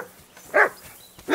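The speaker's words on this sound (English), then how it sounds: "Henry! Whistle at that mutt of yours" A dog in Kingdom Come Deliverance II gives two short, close barks about a second apart, set against quiet game ambience.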